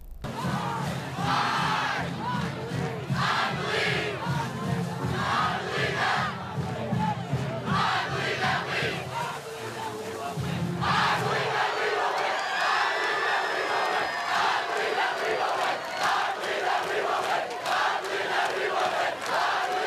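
A large crowd at a Friday night high school football game at Rockbridge Field in South Providence roars and chants steadily, loud and continuous, with whoops and battle-cry shouts rising over the din throughout.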